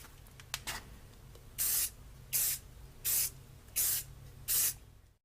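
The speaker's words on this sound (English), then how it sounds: "I'm about 18 inches away, just spraying it oh so gently" Spray can or spray gun misting paint onto an AR rifle from about 18 inches away, five even bursts of hiss, each about half a second long, separated by short pauses over faint background hum.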